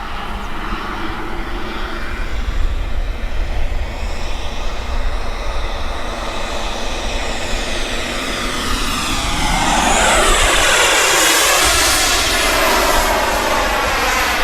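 Freewing Zeus 45NT turbine RC sport jet in flight, a loud, continuous turbine whine and roar that swells with a sweeping pitch change as it passes close by.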